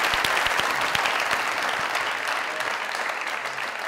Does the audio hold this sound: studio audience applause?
yes